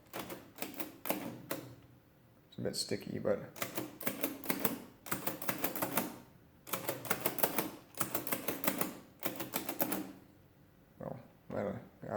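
Keys pressed on a Bell Punch Comptometer model 3D11 mechanical calculator, a worn machine with some keys missing and a sticky mechanism, giving bursts of rapid, close, crisp clacking between pauses while a person talks.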